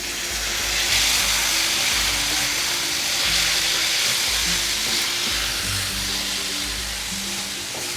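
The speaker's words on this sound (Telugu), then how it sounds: "ఇలా టమాటాలు బాగా సాఫ్ట్గా అయ్యే వరకు వేయించుకోవాలి." Chopped tomatoes with turmeric and ginger-garlic paste frying for Telangana-style mutton boti fry, a steady close sizzle with soft stirring scrapes throughout, no voices.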